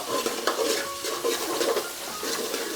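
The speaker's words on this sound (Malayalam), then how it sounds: "അതിനുശേഷം വേണ്ടുപോലെ ഇളക്കുക" Sliced green chillies are stirred in a pan for a coconut-milk fish curry, with repeated close scraping strokes of a spoon against the metal over a light sizzle.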